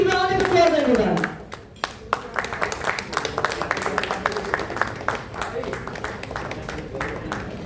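An audience claps at a corporate welcome event for an electronics company collaboration, a steady patter of many hands following a voice at the start and continuing to the end at moderate loudness.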